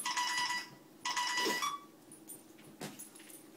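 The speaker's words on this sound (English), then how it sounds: "See, it's calling on my phone" A ZOMM wireless phone leash rings for an incoming call. Two short bursts of a bright electronic ring sound close by, followed by fainter clicks and small handling noises.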